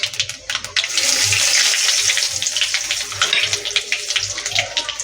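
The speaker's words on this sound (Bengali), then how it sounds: "কালো জিরে ফোড়ন দিয়ে দিলাম হাফ চামচ" Half a spoon of nigella seeds hits hot oil left in the pan after frying pabda fish, giving a loud, close, continuous sizzle with rapid crackling pops throughout.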